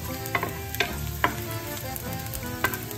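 Garlic toasts in hot oil in a pan for ginataang dilis, a steady close sizzle punctuated by a few sharp clinks of a utensil stirring.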